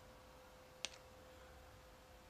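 A single sharp mouse click on a computer interface button for an Automata Eva industrial robot, faint and isolated against a quiet, humming room.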